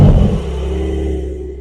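A 2024 Porsche 992 Carrera Cabriolet with PDK starts, giving a loud, close burst of engine rumble that settles into a steady idle over the following second.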